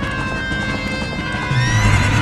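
A horse neighs in The Legend of Zelda: Ocarina of Time, a bright, game-style whinny with rising tonal cries over clip-clopping hooves, growing louder and fuller toward the end.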